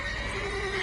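A horse in The Witcher 3 video game gives a short, loud neigh that lasts under a second, sounding close and clear against the game's background sound.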